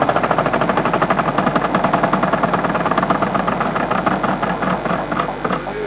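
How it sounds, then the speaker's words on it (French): A wheel spinning on the French TV game show La roue de la fortune in 1996, a steady rapid clatter of pegs ticking against the pointer, loud and continuous throughout. "Vous lancez la roue, bonne chance à tous les 3."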